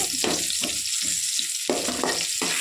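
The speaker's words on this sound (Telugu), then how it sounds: "ఆనియన్ వేసుకొని ఇది కొంచెం ఫ్రై అయ్యేదాకా గోల్డెన్ కలర్ వచ్చేదాకా దీన్ని ఫ్రై చేసుకోవాలి" Onions sizzle and fry in hot oil for a banana curry, with bursts of crackling and stirring scrapes that come and go in quick rhythmic pulses, close and fairly loud.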